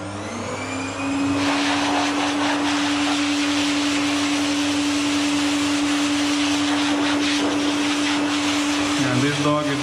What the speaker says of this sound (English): Now I'm going to dry her coat with a high velocity dryer.